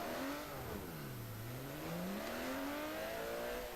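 A Porsche Cup race car spins on track and does donuts, its engine heard from a distance as a steady drone that swoops down and back up in pitch as it circles.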